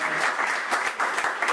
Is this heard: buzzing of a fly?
no